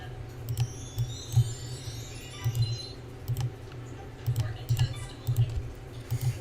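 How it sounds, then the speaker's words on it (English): Computer keyboard keys click softly in irregular bursts of typing picked up by a table-mounted microphone, with faint background murmur. "that's why you hear the keyboard clicking there"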